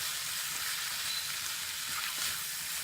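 Huevos rancheros ingredients with pepper being stirred together in a hot pan, giving a steady, even sizzling hiss throughout with no talking.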